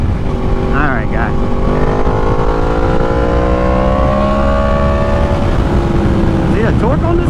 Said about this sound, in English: This Austin Racing exhaust sounds so wonderful compared to that M4 exhaust